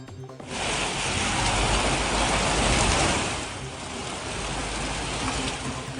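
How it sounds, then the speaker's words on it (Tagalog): Heavy rain pours steadily over parts of La Trinidad, Benguet, where flooded roads ran like rivers, a dense loud roar of water starting abruptly and holding for several seconds with no talk. "inulan at binaha ang ilang bahagi ng Benguet ngayong araw"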